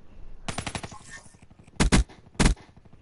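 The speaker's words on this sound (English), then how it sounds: "No, it's a shotgun." Gunfire from a weapon in Call of Duty Black Ops on PS4: a rapid burst of shots followed by three loud, heavy separate blasts, close and sharp, with no talk over them.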